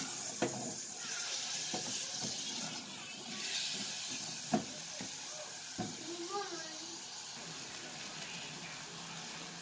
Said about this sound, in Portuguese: Mistura tudo e deixa aí fritando